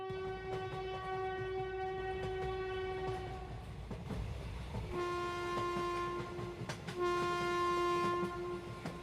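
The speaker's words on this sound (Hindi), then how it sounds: "तभी इन लोगों को ट्रेन की आवाज सुनाई देती है।" A passenger train arrives at Pagalpur station, sounding a long, loud horn blast that stops, then two more horn calls, over a rumble of rolling wheels.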